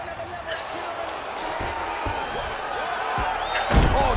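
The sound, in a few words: fighter slammed to the ground in video game UFC 4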